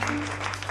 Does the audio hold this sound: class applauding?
yes